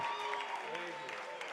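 An audience at a comedy stage show gives brief, faint applause, a steady patter of many hands with voices mixed in.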